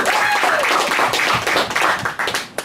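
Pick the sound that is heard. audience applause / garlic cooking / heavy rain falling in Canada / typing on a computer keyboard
audience applause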